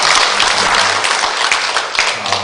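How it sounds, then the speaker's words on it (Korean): A church congregation at a women's mission dedication worship service breaks into loud, sustained applause, dense and continuous clapping filling the room for the whole stretch without pause. "경배 박수 한번 힘차게"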